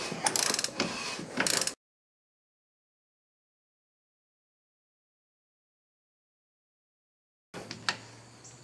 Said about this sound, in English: I'm just spinning the rotor as I tighten it up and keep spinning it.